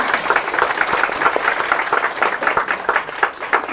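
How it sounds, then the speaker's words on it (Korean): An audience in a classroom-style academy gives a dense, steady round of clapping that lasts the whole moment without pause. "박수 한번 쳐볼까?"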